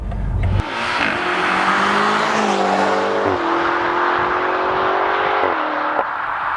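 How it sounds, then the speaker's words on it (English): A 2018 BMW M5 First Edition with the M Sport exhaust drives under steady throttle, its engine a continuous, fairly restrained drone that shifts pitch in steps through gear changes, close and constant throughout. "The First Edition is mounted with the M Sport exhaust."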